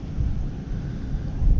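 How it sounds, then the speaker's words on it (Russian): Strong gusty wind in Zaporizhzhia buffeting the microphone, a loud, steady low rumble with slight surges and no talking. "сегодня ветер очень сильно шалит"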